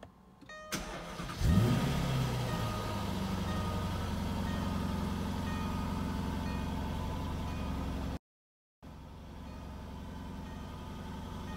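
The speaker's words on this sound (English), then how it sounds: "Start the vehicle now for you." Jaguar XK 5.0 V8 coupe with a walnut dash and charcoal roof starts up with a quick crank and catch, then settles into a steady, deep idle close by, broken by one brief dropout.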